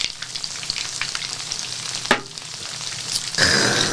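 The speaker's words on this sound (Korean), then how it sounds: "대창 기름에 볶은 불닭 볶음면까지" Buldak fried noodles stir-fry in rendered beef tripe fat, giving a steady close sizzle with a sharp scrape of the utensil midway and a louder burst of frying near the end.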